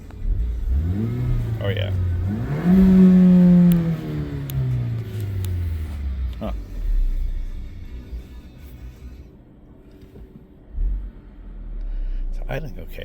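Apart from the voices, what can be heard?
2014 Ford Escape engine running in neutral, idling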